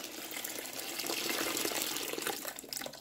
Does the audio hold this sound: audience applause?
no